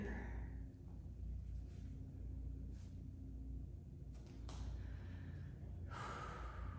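Deep breaths drawn in during a tight hip stretch, close and fairly quiet over a low background rumble, with a few sharper gasp-like inhales toward the end and no speech.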